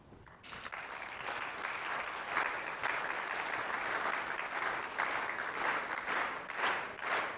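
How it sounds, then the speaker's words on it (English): A large conference audience claps in rhythm, a full, steady wash of applause with a faint regular pulse running through it, sustained for several seconds without speech. "could I ask all of you to please clap your hands in rhythm?"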